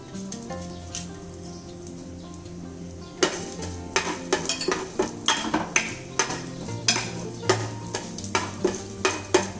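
Urad dal and chana dal sautéing in oil for lemon rice: a low frying hiss, then a run of sharp, rhythmic scraping and tapping stirs against the pan, close by, no talk.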